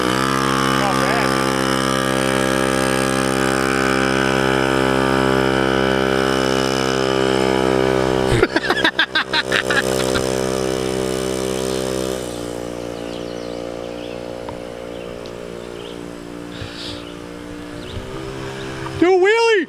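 A small free scooter's engine runs steadily while being ridden, a continuous buzzing drone with a brief rough, choppy stretch midway and a rise at the very end. No speech is heard.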